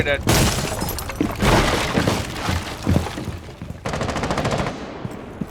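Rainbow Six Siege gunfire: rapid automatic bursts and shots with glass shattering, loud and dense, under excited player voices.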